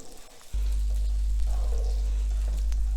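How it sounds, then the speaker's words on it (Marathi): Diced potatoes sautéing with cumin in a hot pan give a steady, close sizzle that starts abruptly after a brief quiet moment and holds evenly, with no voices. "सगळा बटाटा छान परतून घ्यायचा आहे सगळ्या बटाट्याला जिरा कोट झाला पाहिजे"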